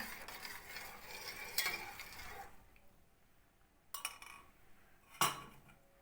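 Metal spoon scraping and stirring through a bowl of yoghurt to spread the starter culture, a soft continuous swishing broken by a few sharp clinks against the bowl, heard close with no voices.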